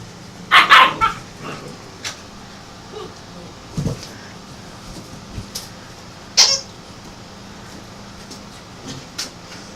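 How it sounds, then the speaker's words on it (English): German Shepherd puppies about seven weeks old yip and bark in short, high bursts amid scuffling play over a puppy house, with a steady low hum underneath. "puppy wars over the puppy house."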